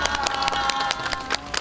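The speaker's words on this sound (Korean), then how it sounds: "감사의 박수 부탁드립니다." Brief burst of audience clapping at a community gathering in Bukchon, Seoul, dense and close with sharp individual claps over a steady crowd bed.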